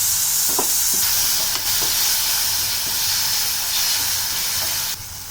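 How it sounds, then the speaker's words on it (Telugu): Boiled tamarind frying in hot oil in a pan while a ginger pickle is made; a loud, continuous hiss and sizzle with a few soft knocks and stirring sounds, no voices. "ఉడబెట్టుకు ఉంచుకున్న చింతపండుని కూడా ఒకసారి నూనెలా వేసుకున్నామండి"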